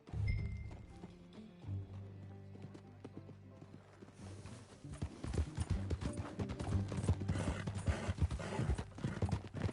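Steady clip-clop of horse hooves walking in Red Dead Redemption 2, growing busier and louder after a few seconds, over a low droning backdrop.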